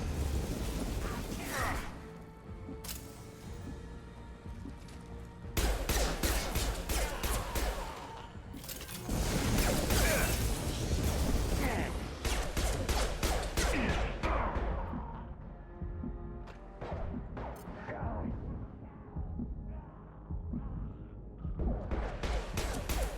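Gunfire in Mass Effect 2 crashes through a busy combat scene, with bursts of shots, whooshing ability blasts and impacts coming in loud clusters separated by brief lulls.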